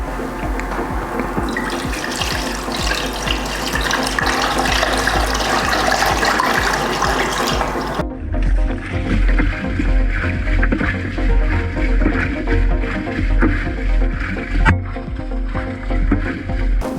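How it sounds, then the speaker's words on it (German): Water is poured through the detergent drawer of a washing machine during cleaning, a loud, continuous rushing and splashing that changes pitch partway through. "Dann geben wir jetzt eigentlich über die Schublade zusätzlich Wasser hinzu, bis etwa unterkant vom Glas."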